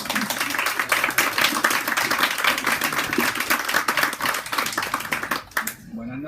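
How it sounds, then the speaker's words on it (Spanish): Audience clapping at a book presentation during a bookshop night event, a busy patter of hands at moderate level that runs for several seconds and then cuts off sharply near the end. "Un aplauso."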